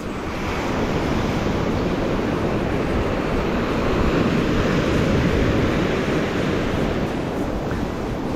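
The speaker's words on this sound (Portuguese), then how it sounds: "Essas ondas aí batendo, som das ondas, som do mar." Ocean waves at high tide breaking and washing onto the beach at Candeias, Jaboatão, in greater Recife, a steady loud roar of surf with wind noise, no pauses and no talk.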